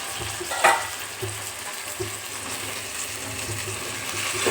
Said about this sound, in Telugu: వీటిని బాగా మిక్స్ చేసుకొని ఇంకా ఒక 5 నిమిషాల పాటు వేయించేసుకుందాం